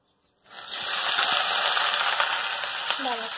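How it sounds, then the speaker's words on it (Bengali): Cumin seeds hitting hot oil in a wok, an abrupt loud sizzle that bursts in after a moment of quiet and keeps crackling steadily, with a brief voice near the end. "কড়াইতে আলু তুলে নিয়ে জিরে ফোড়ন দিয়ে দিয়েছি"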